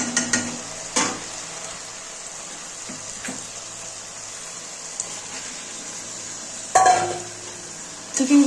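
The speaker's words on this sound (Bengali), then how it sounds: "এবার আমি চিকেনগুলো সব দিয়ে দেব" Chicken pieces drop into spiced masala in a pan with a few clunks and scrapes of a utensil, a soft sizzle running underneath between the louder knocks.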